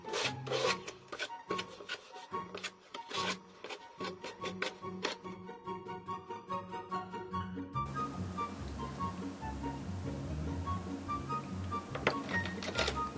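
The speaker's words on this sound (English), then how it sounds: "using grade 100 sandpaper, just quickly smooth out the edges and any excess napkin." Grade 100 sandpaper rubs in quick, scratchy strokes along the paper-napkin-covered edges of a vanity box, close and fairly soft, starting as short separate passes and then turning into a steadier continuous scraping.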